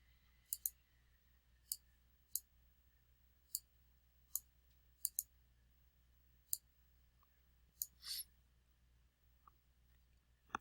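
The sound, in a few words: computer mouse clicking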